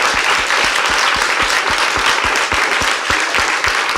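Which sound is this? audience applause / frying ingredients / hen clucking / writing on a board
audience applause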